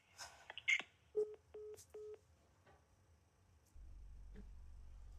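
Several short touch-tone dialing beeps for a return call, evenly spaced and fairly clear, followed by a low steady hum, with a brief voice-like sound early on.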